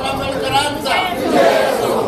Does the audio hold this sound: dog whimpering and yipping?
no